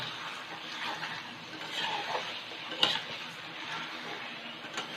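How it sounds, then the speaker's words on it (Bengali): A spoon scrapes and stirs soya chilli masala around a frying pan, producing a soft continuous scraping with a gentle sizzle underneath and an occasional faint clink of metal against the pan. "এবার আমি পুরো মশলাটাকে একবারে মিশিয়ে নিচ্ছি।"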